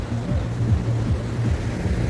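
Sea waves washing up on a beach at Pondicherry, a steady low rumbling wash of surf with wind noise on the microphone and no talk.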